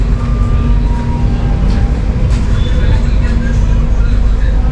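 The Himgiri Express pulls out of Bareilly Junction with a continuous loud rumble and rattle of carriages. Faint voices carry on underneath.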